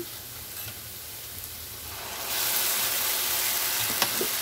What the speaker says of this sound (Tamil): வெங்காயம் நல்லா வதங்கிடுச்சுது நம்ம இதில் வந்து அரைச்சி வச்சுருக்க மசாலாவை சேர்க்கலாம்